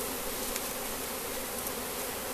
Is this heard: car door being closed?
no